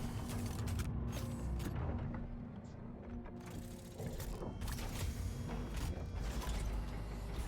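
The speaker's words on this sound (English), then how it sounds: "Got a blast door and everything." A heavy blast door opening aboard a Starlancer drop ship in Star Citizen, a dense, continuous mechanical grinding and ratcheting clatter with low rumble, steady and fairly close throughout.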